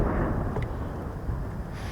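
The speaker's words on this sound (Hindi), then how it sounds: "हैवी फायर हो रहा है भारत की तरफ से।" Heavy mortar artillery fire near the India-Pakistan border: a deep, sustained rumbling boom that fills the clip, loud and continuous with no voices.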